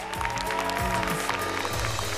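A studio audience at a children's music talent show applauds in a steady patter of clapping, moderately quiet, with sustained tonal sound running underneath.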